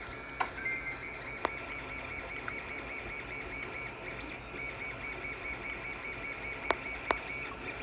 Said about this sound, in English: Here's the printer. It's still continuing to print.